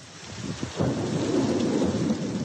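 Heavy thunderstorm over the city centre of Nîmes at night, a low rumble of thunder rolling in under a dense, steady roar of pouring rain that swells and stays loud to the end.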